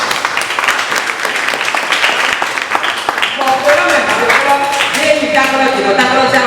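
A church congregation claps and cheers together, a loud, dense wash of applause mixed with voices and shouts that swells and continues steadily.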